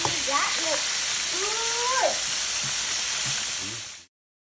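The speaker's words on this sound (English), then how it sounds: "While I was frying up the rest of the steaks" Chicken fried steak frying in a pan of hot oil, a loud, steady crackling sizzle close by that cuts off abruptly, with faint voices murmuring underneath.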